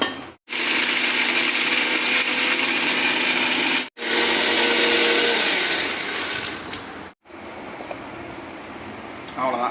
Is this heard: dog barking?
no